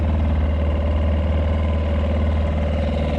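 A boat engine runs steadily while motoring south from Craig House on Jura, Scotland, a continuous loud, even drone with a low throb and no voices.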